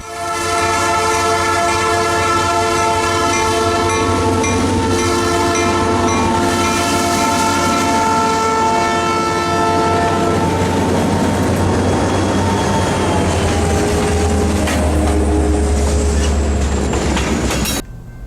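A Louisiana Southern freight train, Job 122, rolls past on its way to an interchange, sounding its horn in loud sustained blasts over the steady rumble of the passing cars.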